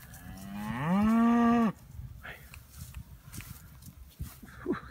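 A single long, loud moo from a Hereford cow on a Nebraska sand hills ranch, rising and holding for over a second before breaking off, followed by faint rustling and soft ranch noise.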